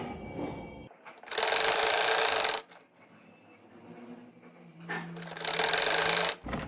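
A sewing machine runs in two loud bursts of rapid stitching along the center of a garment neckline with piping, separated by a quieter pause, with no talking.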